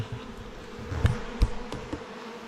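Bees buzzing around a hive on a farm, a continuous low droning hum close by with a few brief louder thumps and knocks over it, and no talking.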